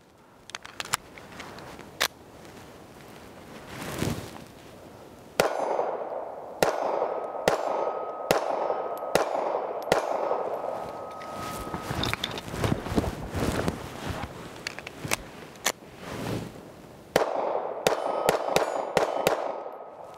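A Kimber Micro Raptor .380 pistol fired in a series of sharp, loud shots, a few spaced apart at first, then a quicker string of follow-up shots with short pauses between bursts.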